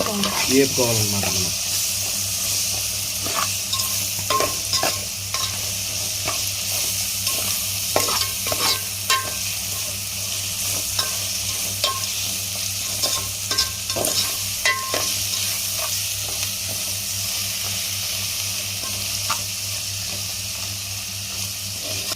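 Ginger garlic paste fries in a pan in a village kitchen, an even loud sizzle running throughout while a spoon scrapes and clacks against the pan in irregular stirs.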